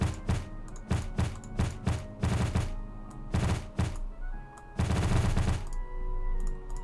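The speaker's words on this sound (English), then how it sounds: "A bunch of bombs go off." Cartoonish bombs going off in the video game Super Dungeon Designer: a rapid series of loud, punchy blasts in quick bursts, some clustered into longer rumbling volleys, with short pauses between groups.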